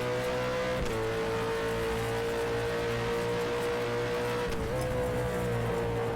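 A Supercar engine races around the Sydney circuit in the rFactor 2 video game, holding a loud, sustained high drone with two quick dips in pitch as it shifts or lifts off, with no talk.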